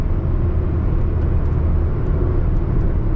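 Car cruising on a highway at 100 km/h, heard from inside as a loud, steady low road and engine rumble with broadband tyre and wind noise, unchanging throughout.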